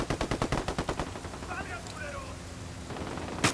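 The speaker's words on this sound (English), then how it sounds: "Opening fire." Video game gunfire in Ghost Recon Wildlands, beginning with a quick burst of rhythmic automatic shots, then fading under radio-style voices, with a sharp single crack at the end.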